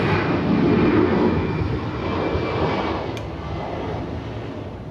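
Jet airliner decelerating on the north side of Atlanta's ATL airport, a loud broad engine roar that starts strong and gradually eases while staying continuous, no voices.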